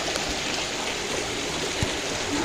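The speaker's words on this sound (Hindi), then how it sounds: "पानी आ रहा है ना, देहरादून में बाढ़ आ गई।" Floodwater rushes steadily through Dehradun, a continuous broadband roar of flowing water, loud and close, with no voices over it.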